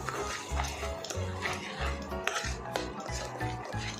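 Ground tomato, onion and green chili paste frying in a pan for palak paneer, with soft stirring and scraping of a spatula in a repeating rhythm at close range under a faint sizzle.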